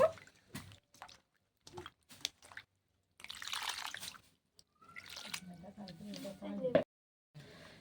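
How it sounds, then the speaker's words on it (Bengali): Salted taro pieces are rinsed in water by hand, with intermittent splashes, squishes and drips in short bursts, close by, while a voice speaks over parts of it. "এই কচুগুলো এবার একটু ধুয়ে নিতে হবে জল দিয়ে একটু ধুয়ে নেব"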